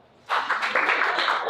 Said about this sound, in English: Round of applause if you watch porn.